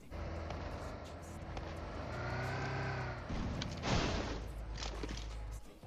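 In the video game PUBG Mobile, a vehicle drives down a hill with a steady engine drone that rises and swells as it approaches, then grows rougher and louder, with no talking.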